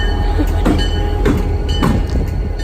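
A train rumbles past close by, wheels clattering in a rhythmic clickety-clack with metallic squeals, steady and loud throughout.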